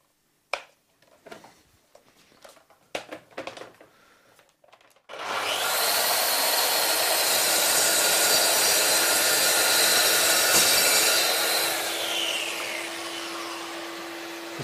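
A Mafell MT55cc plunge saw makes a full-depth second cut through wood, a few handling clicks first, then a loud steady high-pitched whine for about nine seconds that tapers slightly as the cut ends.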